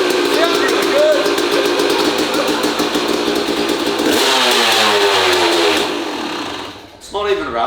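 A motorcycle engine in a bike build project, running with no airbox, revs loudly and steadily at close range, its tone shifting as the throttle changes, then dies away near the end.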